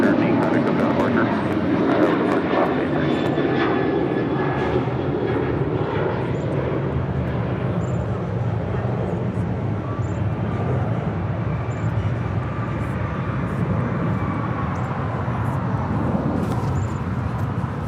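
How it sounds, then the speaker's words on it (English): An Alaska Airlines Boeing 737-800 takes off at LAX, a loud, steady broadband engine roar holding for the whole stretch with no break. "Taking off there, that was Alaska Airlines flight 813 heading to Kahului in the 737-800."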